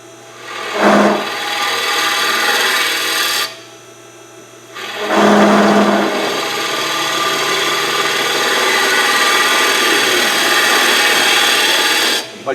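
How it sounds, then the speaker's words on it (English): A lathe cutter hollows out a turning wood piece with a loud, continuous rasping scrape, broken by two short pauses as the tool lifts off, then resumes in long sustained passes. "Let's hollow this out a little bit more"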